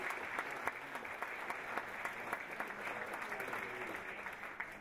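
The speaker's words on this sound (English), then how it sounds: "Let's give them one more round of applause," Audience applause for city council candidates, a steady wash of many hands clapping at moderate distance, sustained evenly with no talking over it.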